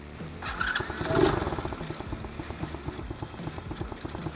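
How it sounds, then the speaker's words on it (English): A Tao Tao 110/125cc bike engine with a new carburetor revs briefly, then settles into a steady, rhythmic putter at idle, close by. "it's idling pretty good"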